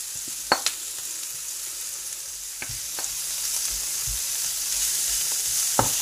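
Leftover cooked food sautéing in a pan before meat goes in, a steady broad sizzle with a few sharp spatula knocks and scrapes scattered throughout, close and fairly loud with no talking.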